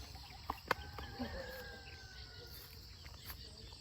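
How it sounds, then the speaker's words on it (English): Birds chirp faintly in the early morning at Catigan, Davao, with a few soft, distant calls over a quiet rural background. "Oh, you can only hear the chirping of the birds"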